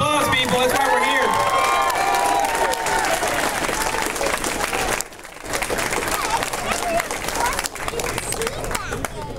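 Audience applause and cheering fill a crowded arcade expo hall after a costume contest entry, loud and continuous with crowd noise and babble, briefly dipping midway before the clapping swells again.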